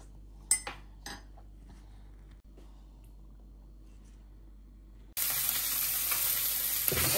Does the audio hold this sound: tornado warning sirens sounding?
no